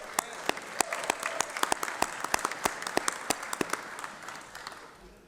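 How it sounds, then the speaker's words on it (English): Applause in the Georgia Senate chamber greets a senator during a 2024 session, a steady patter of many hands with sharp individual claps standing out, sustained and moderately near throughout. "Give him a round of applause."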